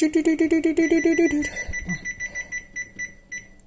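A kitchen oven timer rings while white bread bakes, a rapid repeating bell-like trill for about a second and a half, then fading into softer lingering chimes, fairly close and loud with no talking.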